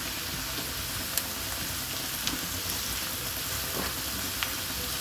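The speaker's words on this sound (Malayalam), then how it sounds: "നല്ലതുപോലെ ഒന്ന് വഴറ്റിയെടുക്കാം" Onions sautéing in a hot pan with curry leaves for an okra masala make a loud, dense, continuous sizzle and crackle, with a few light clicks scattered on top.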